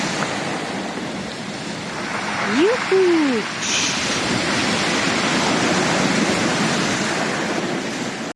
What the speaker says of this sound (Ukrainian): Такі хвилі.